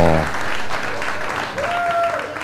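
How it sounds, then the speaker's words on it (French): An audience at an anniversary broadcast applauds Papa Samba, a short burst of clapping mixed with voices, loud and close at the start and continuing under chatter. "On peut applaudir Papa Samba."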